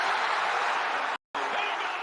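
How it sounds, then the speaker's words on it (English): Dense, roaring stadium crowd at a Georgia Tech college football game erupts after a 44-yard walk-off field goal, a broad sustained wash of cheering broken by a brief gap of silence before resuming just as loud. "That crowd is going insane"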